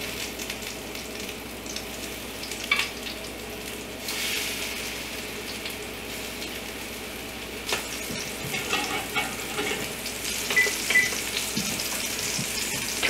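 Fish pieces frying in a pan for gluten-free fish tacos, a steady close sizzle running throughout with occasional scraping and clatter from a spatula, no talking.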